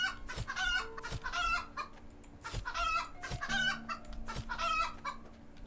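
Chickens in the video game Medieval Shop Simulator cluck repeatedly in rhythmic bursts, with an occasional crow, steady and fairly close, with no talk.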